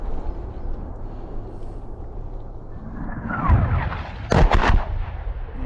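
A descending whistle of incoming artillery rounds, then two loud, close explosions in quick succession over a low rumbling background, in the war in Ukraine.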